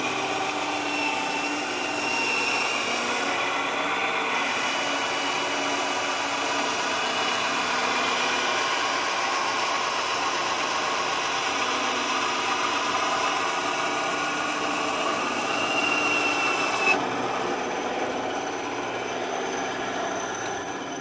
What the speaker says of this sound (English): So it's cut off now with the bandsaw